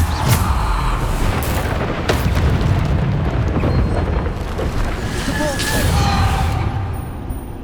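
Bombarda blasting spell in Hogwarts Legacy, a string of heavy booms and crashing impacts amid game combat noise, loud and dense with layered bursts and some voice over the top.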